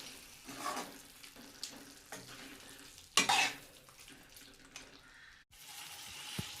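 Mutton being sautéed in masala in a pan, quiet scraping and stirring over a low sizzle with a louder clatter midway, close but faint overall.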